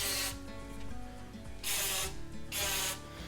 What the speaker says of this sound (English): I'll take just a few sprays of this oil